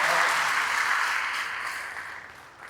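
Applause from an audience at a Hindi literature festival, a steady broadband wash that holds loud then slowly thins out toward the end, with no voices over it.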